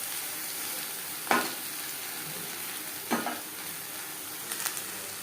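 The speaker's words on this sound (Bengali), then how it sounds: "ফোড়নের সাথে ধুনুল বেশ ভালো করে মিক্স করে দেবো।" Sponge gourd fries with tempering spices in a pan, giving a steady soft sizzle broken by three scraping stirs, the first and second distinct and the last a quicker double scrape.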